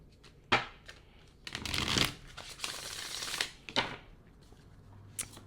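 Tarot cards being shuffled during a pick-a-card reading: repeated crisp riffling and flicking bursts with sharp slaps, close and fairly quiet, heard alone without talk.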